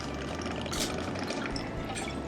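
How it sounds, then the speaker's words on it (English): Two ounces of Reigncane poured into a cocktail shaker over egg white and simple syrup, a short, close, steady liquid stream with a faint splash partway through. "we're going to finish with 2 ounces of our Reigncane"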